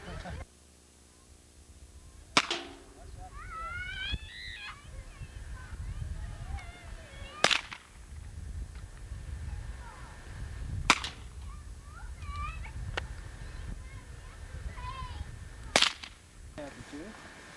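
Four sharp, loud cracks of rifle fire ring out a few seconds apart over outdoor background noise, with people talking faintly in between.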